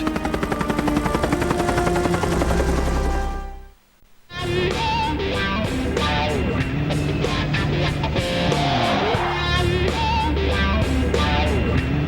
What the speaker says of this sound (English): The most lethal helicopter of the war was about to make its presence felt.